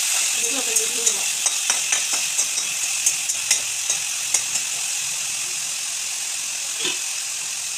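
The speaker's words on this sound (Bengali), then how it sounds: "বন্ধুরা, ভাত ভাজা হয়ে গেছে," Rice is stir-fried in a pan over a bright, steady sizzle, with a series of sharp spatula scrapes and taps that come at a regular pace and then thin out.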